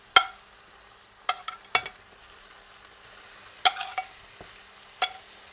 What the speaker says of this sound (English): we're going to take our chicken, we're going to bring it back to the pan